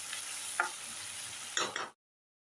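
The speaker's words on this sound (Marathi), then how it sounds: "आता या मोठ्या गॅसवरच आपण सर्व भाज्या परतून घ्यायच्या आहेत" Onion and mixed vegetables sautéing in a pan over a high flame for idli chilli, a steady close sizzle with a few brief spatula scrapes before it cuts off abruptly.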